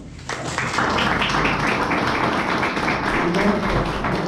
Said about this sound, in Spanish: Y un aplauso también.